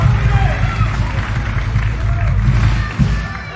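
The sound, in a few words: round of applause for event coordinator Keenan Chong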